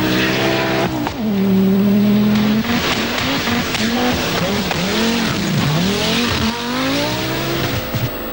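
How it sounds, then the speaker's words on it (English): A Group B rally car engine screams at high revs, bouncing off the rev limiter repeatedly, with pitch sweeping up and down as it races past, loud and continuous. "is using all the revs at her disposal and the rev limiter"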